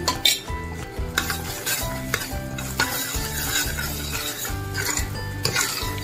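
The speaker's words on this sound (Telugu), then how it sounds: "ఇది అడుగట్టకుండా ఇలా కలిపితే ముద్ద అయ్యేదాకా కలుపుకోవాలి" A spoon scrapes steadily around a pan of sweet coconut filling made with freshly grated coconut and a spoon of ghee, rhythmic stirring strokes with a soft sizzle underneath, close and continuous with no talking.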